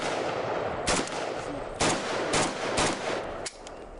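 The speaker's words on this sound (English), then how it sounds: "now we were shooting at 25 yards" AK-47 Kalashnikov rifle shots fired at a 25-yard range ring out as several sharp, loud single cracks spaced about a second apart over a steady background. No one speaks.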